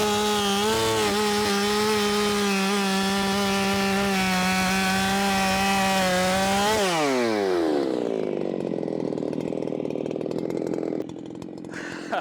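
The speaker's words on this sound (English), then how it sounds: "Why do you need a ported saw for firewood, they say?" A ported chainsaw bucks big red oak firewood, a loud, high, steady whine held under load for several seconds before the engine drops off and winds down.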